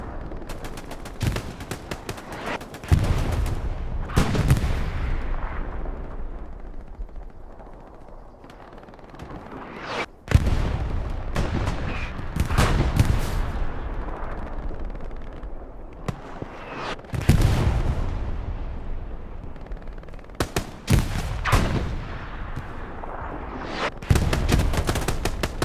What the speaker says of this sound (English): Put some filthy artillery to go with that.